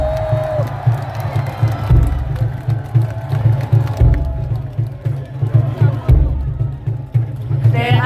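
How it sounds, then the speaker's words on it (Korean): A large crowd at a presidential campaign rally in Seoul City Hall Plaza cheers and claps continuously, a loud, dense roar of cheering over a steady rhythmic thumping beat. "여러분 큰 박수 부탁드리겠습니다"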